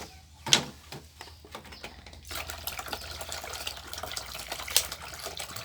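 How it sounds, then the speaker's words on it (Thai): Photosynthetic bacteria liquid poured into a container, a close, uneven splashing stream of liquid with brief louder spills, heard alone without talk. "เทให้หมดเลยค่ะ เทผสมไปเลย"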